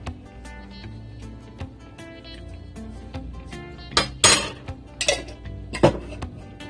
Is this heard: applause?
no